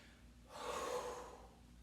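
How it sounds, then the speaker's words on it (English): A single forceful breath pushed out through the nose during exercise, a brief airy rush lasting about a second, faint and close with no speech. "On the way out, breathe through the nose."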